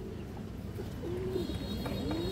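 A female pigeon coos softly on a pigeon farm, a few low, wavering calls rising and falling near the end, faint against a steady background hum with no talk.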